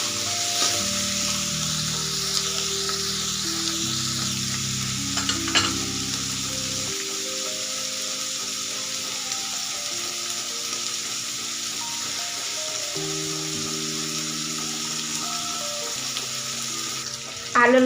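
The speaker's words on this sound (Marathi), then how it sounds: "मीडियम साईजचा 1 टोमॅटो घेतलाय बारीक कट करून, ते सुद्धा आपल्याला कांद्यासोबत परतून घ्यायचं आहे।" Chopped tomato sautéing with onion in a pan for a Marathi cluster-bean (gavar) vegetable dish, giving a steady close sizzle and frying hiss with occasional stirring scrapes throughout, over background musical tones, with no talking.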